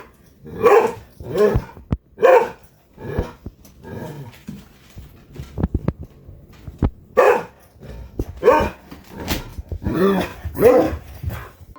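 An old dog barks repeatedly in loud, close bursts separated by short pauses, with a few growl-like sounds between the barks.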